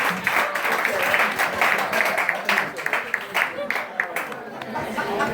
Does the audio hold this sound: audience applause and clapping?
yes